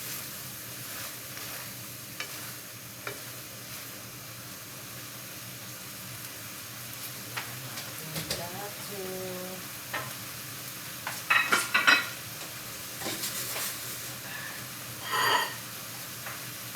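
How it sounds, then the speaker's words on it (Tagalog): Shrimp and broccoli calderita sizzles steadily in a pan while being stirred, with a constant frying hiss and occasional clinks and scrapes of the utensil against the pan, close by. "Hinalo ko lang siya."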